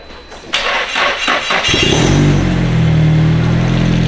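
A Nissan Silvia SR turbo engine cranks briefly, then catches and settles into a loud, steady idle close by, with no talk over it.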